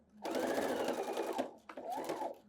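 Sewing machine stitching fabric at a 5/8 seam, running in two close, steady bursts of rapid humming and whirring with a brief pause between them and no talking.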